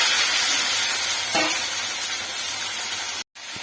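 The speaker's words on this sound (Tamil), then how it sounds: "காயை போட்டு நல்லா வதக்கணும்" Vegetables (cowpeas) sizzle steadily in a hot pan after mustard seeds have popped, a constant frying hiss with a brief stirring clatter partway through.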